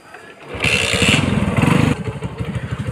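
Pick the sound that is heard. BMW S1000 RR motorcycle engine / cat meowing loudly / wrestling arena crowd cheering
BMW S1000 RR motorcycle engine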